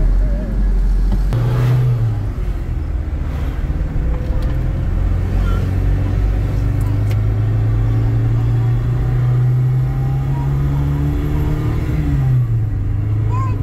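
A Nissan Terrano fitted with a fuel-saving device runs with a steady, close, low engine rumble that swells briefly as if revved, while people talk over it.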